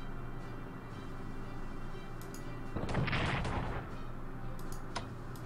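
Rocket artillery firing in the wartime strategy game Strategic Command: World at War, a dense rushing burst of launches swelling for about a second over a steady low rumble of game ambience, with faint ticking clicks scattered around it.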